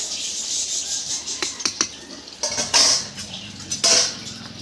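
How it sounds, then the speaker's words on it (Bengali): Spoon stirring broken rice boiling in a pot, heard as close, sharp metallic clinks and scrapes against the pot's side in irregular bursts over a low bubbling background. "আর খুদের ভাতটা কিন্তু ফুটে উঠেছে, একটু নেড়ে নেবো"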